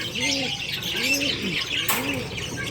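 Old parrots calling in repeated arched squawks, roughly three evenly spaced calls over a steady hiss of background noise, with a brief sharp rustle near the end.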